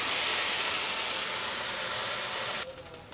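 Beans frying in a covered pan over medium heat with a pinch of turmeric give a steady, close broadband sizzle and hiss that runs without pause, then drops to a quieter, thinner crackle near the end.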